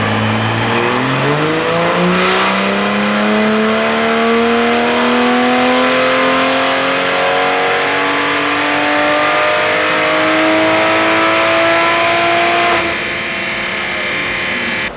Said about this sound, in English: We're going to dyno the car and put down the numbers that we have on the 93 Octane Stage 2 MHD OTS map.